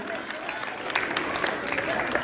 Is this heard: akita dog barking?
no